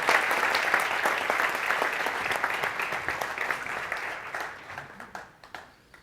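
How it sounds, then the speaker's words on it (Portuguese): Church seminar audience applauding steadily at close range, a dense patter of many hands that thins out and fades toward the end. "Uma salva de palmas aí para essa célula abençoada."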